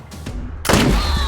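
Sniper fire from the video game Wasteland 3: a loud sharp crack bursts in partway through and leaves a sustained, echoing rumble, with fainter shots before it.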